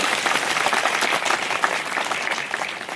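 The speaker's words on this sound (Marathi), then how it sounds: "एकदा टाळ्या वाजवा." A crowd at an election campaign rally applauds, a dense steady wash of many hands clapping close and loud throughout, with no voices standing out.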